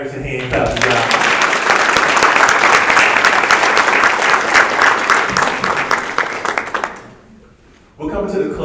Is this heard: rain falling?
no